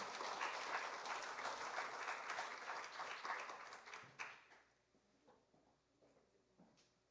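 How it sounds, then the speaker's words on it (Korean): A church congregation applauds in a steady wash of clapping that holds for about four seconds, then tapers off into a few scattered claps and room quiet. "박수 한번 하겠습니다"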